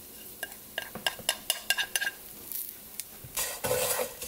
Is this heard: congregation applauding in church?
no